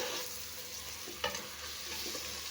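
Tomato and onion sautéing in a pan for a Chettinad mutton biryani, a soft continuous sizzle with one brief spoon knock and gentle stirring scrapes, close and fairly quiet, with no voices.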